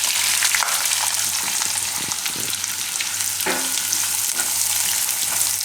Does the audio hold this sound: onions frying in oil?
yes